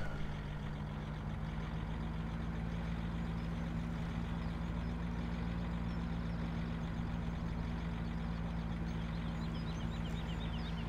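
Steady low engine drone of a farm vehicle in Farm Sim 17, driving across the player's own field, holding a constant hum with faint mechanical rattle throughout.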